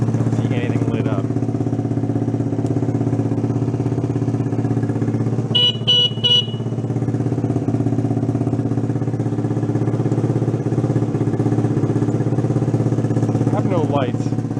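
A Honda Trail 90 motorcycle that sat 37 years idles with a steady, loud putter close by, with a few brief chirps partway through and people talking now and then over it.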